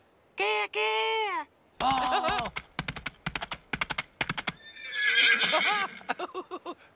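Teletubbies Tinky Winky and Dipsy imitate a horse with their voices, giving two long, loud whinnies around a run of sharp, evenly spaced clip-clop knocks, then a final wavering neigh and softer clops close up.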